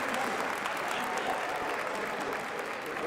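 A large crowd at the 2025 Pokémon VG World Championships applauds steadily, dense clapping filling the hall at a constant loud level for a few seconds.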